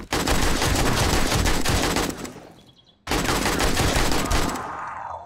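Automatic weapon fitted with a drum magazine mod fires long sustained bursts in the video game 7 Days to Die, loud rapid gunfire that briefly stops and then resumes just as hard.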